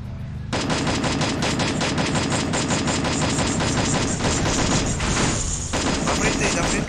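Cannon fire in the game Free Fire erupts as loud, rapid, continuous bursts of shots, close and sustained for several seconds.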